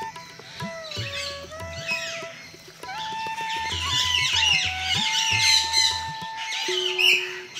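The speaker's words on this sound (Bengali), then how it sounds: "কি সুন্দর পাখির ডাক শুনতে পাচ্ছি আমরা।" Birds call at the Rasikbeel aviary mini zoo in Alipurduar, with mynas and peacocks present: squawks and chirps overlap throughout, bright and fairly close, with a lower repeated honking call mixed in.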